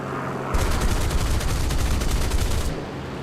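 Aircraft machine guns in a flight combat game, including a Spitfire, rattle in one sustained loud rapid burst of about two seconds over steady engine drone, which continues alone before and after.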